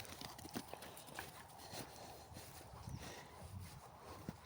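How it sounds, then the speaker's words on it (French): Horses walk near a lake at Malzieu-Ville, their hooves clip-clopping faintly and irregularly under wind and outdoor noise. "Et les chevaux là-bas, elle a vu les chevaux"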